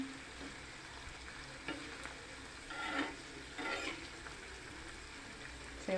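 Hair oil ingredients with henna leaves are stirred in a pot over heat, giving a faint steady bubbling sizzle with a few louder scraping passes of the spoon.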